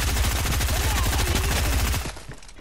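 Rapid, dense bursts of gunfire in a Fortnite match fill most of the stretch, loud and close, then cut out abruptly, leaving quieter game sounds.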